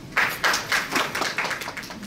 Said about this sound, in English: please help me give a round of applause to Scott